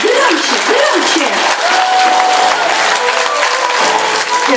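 A crowd in a show audience claps loudly and continuously, a dense wash of applause filling the whole stretch, with voices shouting and talking over it.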